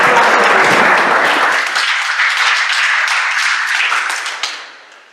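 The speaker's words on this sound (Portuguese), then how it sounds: "Então dê mais uma salva de palmas a Jesus por ela e sejam abençoados." A church congregation breaks into loud, close applause with dense clapping that holds for several seconds, then thins out and fades to a few scattered claps at the end.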